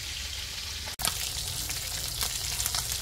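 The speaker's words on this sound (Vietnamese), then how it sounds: "Nó chiên cũng được ha." Fish sizzles steadily in a hot frying pan, a close, continuous crackling hiss broken by one brief dropout.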